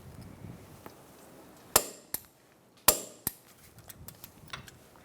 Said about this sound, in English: And now we're going to torque down all our bolts.